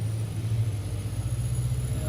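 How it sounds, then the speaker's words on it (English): A John Deere 4045 diesel engine runs steadily under load, a constant low mechanical drone with a faint high whine above it, with no audible rise in pitch. "in order for the engine to ramp up to 2500"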